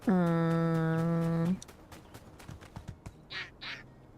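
A duck in a video game gives a sustained nasal honking quack, loud and close, followed by softer scattered clicks and a couple of brief chirps.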